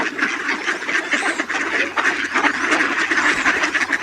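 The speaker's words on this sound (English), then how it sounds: "Amazing number of ducks." A large flock of ducks quacks continuously on an unfrozen pond, a dense, overlapping chorus of many birds with no pauses, steady and fairly close throughout.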